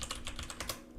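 Quick, quiet keystrokes on a computer keyboard, a short burst of about eight taps heard up close.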